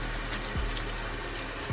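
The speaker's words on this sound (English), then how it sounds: "So both overflows are coming out fully." Water gushes steadily from both overflows of an RV freshwater tank under strong supply pressure, a continuous close splashing rush with no talk.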